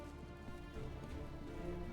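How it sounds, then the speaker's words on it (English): Rain falls in the Hitman video game, a faint soft patter and hiss under a low rumbling background, steady and distant with no voices. "I hope you like the rain"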